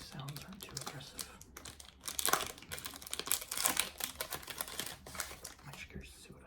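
Close crinkling and tearing of Yu-Gi-Oh card pack wrappers in an ASMR whisper session, bursts of crisp plastic rustle and snaps under soft whispering.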